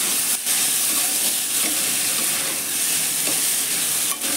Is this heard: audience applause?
no